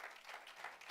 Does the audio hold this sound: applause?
yes